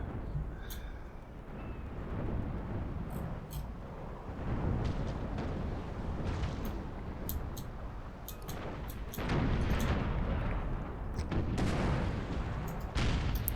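Naval cannon and musket fire in the strategy game Empire: Total War, deep rumbling booms and rolling volleys layered with sharp crackling shots, continuous and heavy throughout.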